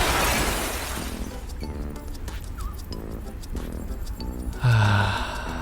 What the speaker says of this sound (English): Laplace leaps through the window, shattering it.